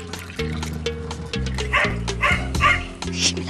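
A dog barks and yaps repeatedly in a quick, uneven run of loud, close yelps and whimpers, in a Spanish-language TV drama scene.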